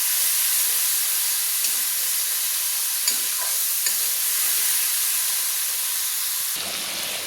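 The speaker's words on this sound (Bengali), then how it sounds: "দিয়ে ভালো করে আমি কিন্তু গুঁড়ো মশলাগুলো তেলের সঙ্গে কষিয়ে নিচ্ছি" Ground spices are stir-fried in oil in a wok after a splash of hot water, a loud, close, hissing sizzle broken by a few scraping stirs, dropping slightly near the end.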